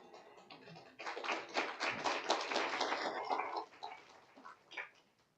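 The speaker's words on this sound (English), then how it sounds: "thank you for the clap" Audience at a Sunday church service clapping in a dense burst of applause from roughly one to four seconds, thinning into scattered claps before fading.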